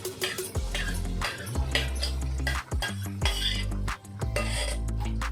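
A spoon scrapes and clinks against a pan while stirring capsicum paneer curry gravy, with repeated metallic strokes and thick wet stirring sounds, close and fairly loud with no talk.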